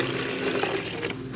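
Water runs steadily into a rabbit waterer being filled, a continuous close splashing, gurgling pour that lasts the whole short moment with no talk.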